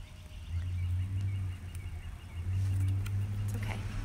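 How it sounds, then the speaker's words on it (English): A truck passes outside, a low rumbling engine drone that swells, dips briefly, then rises again louder, with faint scattered background noises and no talking. "It's okay, just a truck."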